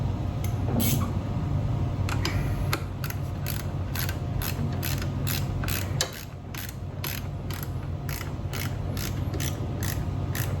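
Ratcheting clicks from a wrench tightening a starter bolt on a Predator 3500W generator during a remote-start install, a steady run of close, repeated clicks over a constant low hum.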